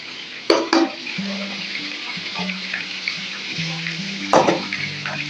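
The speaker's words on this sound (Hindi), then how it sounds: "तो अब इसी घी के अंदर मैं प्याज शामिल करूँगी।" Onions frying in ghee for chicken aloo korma give a soft steady sizzle, broken by two sharp clattering knocks near the start and end, heard close with no speech.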